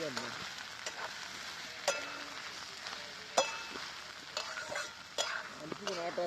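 A spoon stirs and scrapes egg chutney with green chili thecha in a frying pan, with soft sizzling under it and a few sharp clinks of utensil against metal.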